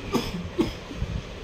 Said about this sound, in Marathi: अरे का खोकला येते का खोकला येते?